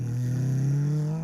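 A voice imitates a car going past with a sustained buzzing tone that slowly rises in pitch, close and fairly loud, and holds for just over a second.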